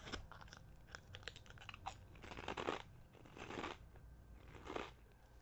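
Thick-cut, hard-fried Kettle Gochujang potato chips crunched in close-up chewing, with several loud bursts of crisp crackling between quieter mastication.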